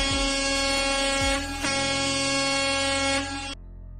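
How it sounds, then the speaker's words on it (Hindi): An Indian Railway train horn blares in short bursts, loud and close, with a sustained harmonic tone that breaks off abruptly near the end; no talk is heard. "6 बार छोटे हॉर्न।"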